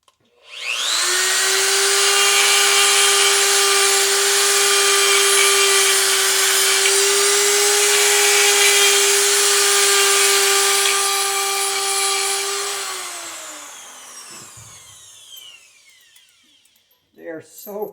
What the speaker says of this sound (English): I'm just going to clean up some of those slots a little bit with my die grinder